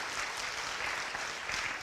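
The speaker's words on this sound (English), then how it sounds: "So give He Ping a big round of applause." A seminar audience gives a round of applause, a steady, moderately quiet wash of clapping from many hands that continues evenly throughout.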